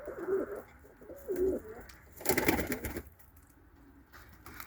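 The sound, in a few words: pigeons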